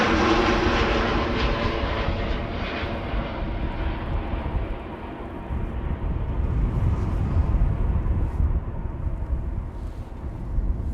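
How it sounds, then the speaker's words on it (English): An EasyJet airliner arriving at Amsterdam Schiphol Airport roars steadily with loud, broad jet-engine noise that holds throughout as it passes, the high whine gradually fading. "EasyJet arriving from Geneva."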